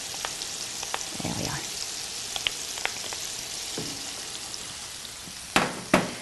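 Tomato sauce with chicken or vegetable stock and tomato puree bubbles in a pot with a soft crackling sizzle, a few pops and two sharp knocks near the end; a voice speaks briefly.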